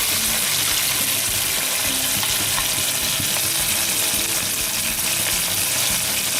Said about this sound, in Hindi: 1 to 2 टेबलस्पून सोया सॉस डालें